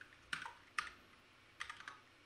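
A new computer keyboard being typed on, with three short bursts of quick, crisp key clicks separated by brief pauses, close and fairly quiet, with no talking.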